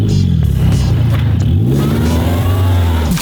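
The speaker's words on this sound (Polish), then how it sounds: "Ale zobaczcie, że silnik jeszcze chodzi" A car engine runs loudly nearby, its pitch rising and falling as it revs, steady throughout without talk.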